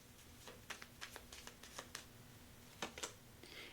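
Tarot cards shuffled and drawn from a deck, giving soft scattered riffles and a few crisp snaps of cards laid down, close and quiet with no talking.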